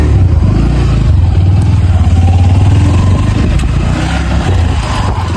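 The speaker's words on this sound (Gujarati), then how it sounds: "આપણે ગાડીની કિક મારી દીધી અને આપણે નીકળીએ" A motorbike engine runs loud and close, rumbling and revving as the bike rides off, a continuous heavy drone with slight swells in pitch throughout.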